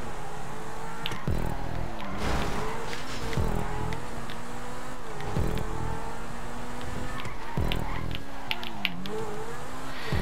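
Race car engines roar through a GTA V Online street race, revving and shifting with pitch sweeps and repeated gear changes, loud and continuous with no talk.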